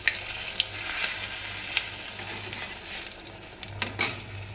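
Coriander leaf chops (dhonepata chop) fry in hot oil with a continuous, close bubbling sizzle. Sharp little pops and crackles break through it at irregular intervals, and no voices can be heard.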